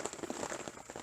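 Rain pattering on a lavvu shelter in woodland, a soft, fairly faint drumming of drops on fabric with an uneven rhythm, heard alone for a brief moment.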